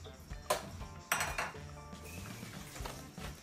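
A saucepan of heavy whipping cream handled on a stove gives a few close metallic clanks and knocks, with sharp hits near the start, then quieter shuffling and faint clinks.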